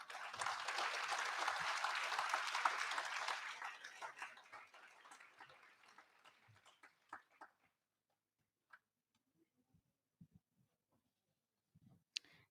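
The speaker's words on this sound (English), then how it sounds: "Please give them another big round of applause." Audience at an inauguration ceremony applauds a yoga performance, a dense burst of clapping that fades out after several seconds, leaving a few scattered, isolated claps and quiet room noise.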